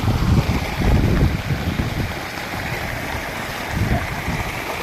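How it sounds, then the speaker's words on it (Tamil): Floodwater rushing steadily through a rice paddy field, a loud continuous churning wash with heavier surges at the start and near the end. No voices. "பாருங்கள் எவ்வளோ தண்ணி போகுது பாருங்கள்."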